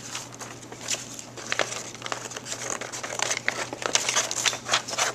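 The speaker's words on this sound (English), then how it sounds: "It's kind of heavy, so it's a little hard to cut. So kind of muscle your way through it." An X-Acto knife cuts through heavy chipboard in short, scratchy crackling strokes, close and fairly loud, coming in uneven bursts and scrapes with no talking.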